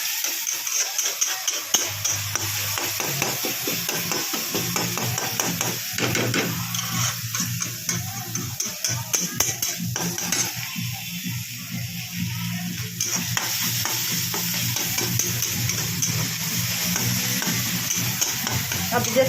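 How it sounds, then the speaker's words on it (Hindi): Onion and garlic gravy bubbles and sizzles in a pan over high flame while a spoon stirs and scrapes against the metal in a steady, repeated rhythm, close and fairly loud. "मैं इसको सब्जी को ग्रेवी को चलाती आ रही हूँ। अगर आप छोड़ देंगे तो प्याज हमारी जल जाएगी"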